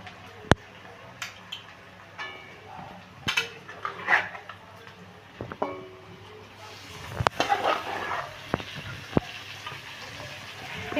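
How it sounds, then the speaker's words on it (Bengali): Marinated chicken goes into a pan of fried onions for a chicken curry, with scattered metallic clinks and scrapes of utensils against the pan over a low background and faint sizzling. "এই ম্যারিনেট করা যে চিকেনটা আছে চিকেনগুলোকে আমি দিয়ে দিচ্ছি"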